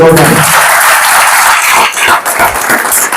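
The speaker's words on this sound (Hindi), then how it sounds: "ताली बजाओ उसके लिए।" A crowd at a political gathering in Kaman, Rajasthan claps loudly and steadily for a young woman, a dense near wash of applause that thins slightly toward the end.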